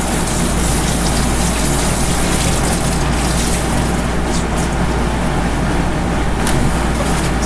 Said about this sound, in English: Maybe I should rinse it out a little bit.